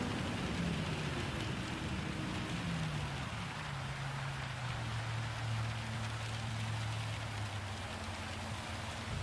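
Steady hiss of rain during a Gran Turismo 7 race, constant and broad, with a low engine drone sliding downward beneath it.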